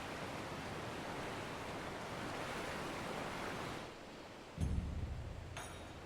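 Ocean waves in the Final Fantasy XIV game wash in as a steady, full roar of surf on the approach to the port of Kugani, followed by a deeper crash toward the end, with no talking.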